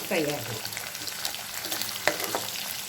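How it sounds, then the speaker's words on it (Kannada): Onion and curry leaves fry in a pan with a steady close sizzle, broken by a few scrapes of a spoon, and no voices are heard. "ಫ್ರೈ ಆಗಿದೆ."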